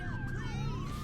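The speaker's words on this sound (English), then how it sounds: "if they're wailing those sirens" An emergency vehicle siren wails in American Truck Simulator, its rising and falling tones sweeping clearly over a low road rumble for a short burst.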